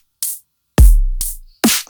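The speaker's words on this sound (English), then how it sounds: "synthesized snare" Synthesized snare drum hits, three short bright noisy cracks interleaved with a deep booming synthesized kick, loud and dry in an electronic drum-and-bass sound-design context.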